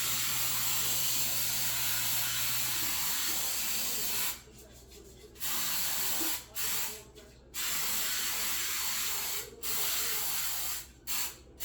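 Cooking spray hisses from a can onto a cake pan held over a sink, coming in several separate bursts of varying length, near and fairly loud, with no talking.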